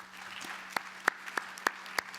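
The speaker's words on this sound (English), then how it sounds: "I would like to ask a round of applause for all the staff who made it happen" A few slow, scattered claps from a Governing Council audience honoring IFAD staff, about six distinct hand claps over a faint steady hum, fairly quiet and distant.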